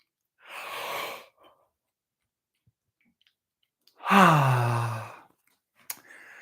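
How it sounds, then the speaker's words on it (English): Two long, breathy yawns during a face and neck stretch, the first airy and softer, the second louder with a voiced drawn-out groan, separated by silence and followed by a faint click. "One more big yawn."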